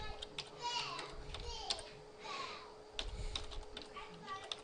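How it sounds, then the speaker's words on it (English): Rapid light keystrokes on a computer keyboard clatter in quick bursts while entering a DNS zone name, close and fairly soft, with a faint voice murmuring in the background. "here we're going to type in Bentek local"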